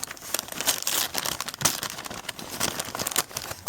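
Gift wrapping paper crinkles and tears up close as a present is opened at a PEZ Secret Santa exchange, a steady run of crisp rustling with a few sharper rips.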